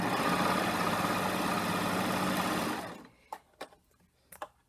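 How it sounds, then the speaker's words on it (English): A serger overlock machine chain-pieces quilt fabric in a fast, loud continuous whir for about three seconds, then stops, followed by a few short clicks and snips. "Serger likes chain piecing"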